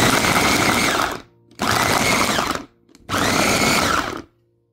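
Three bursts of a loud motorized blender chopping bamboo shoot filling for lumpia, whirring, each about a second long, separated by short pauses.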